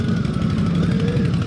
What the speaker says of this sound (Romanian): O motocicletă interesantă.